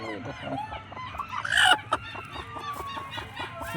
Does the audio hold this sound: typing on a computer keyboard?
no